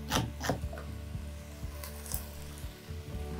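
A knife roughly chops celery on a board, a handful of sharp, irregular knocks and thuds spaced out over a few seconds, quiet and close, with no one speaking.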